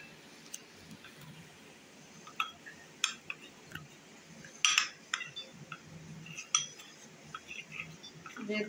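A spoon stirs cornflour into vinegar in a container, tapping and clinking irregularly against the sides in a quick scattered rhythm, close and fairly quiet with no talking.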